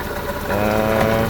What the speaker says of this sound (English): The big issue is trying to get the engine running just right.